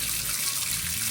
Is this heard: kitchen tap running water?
yes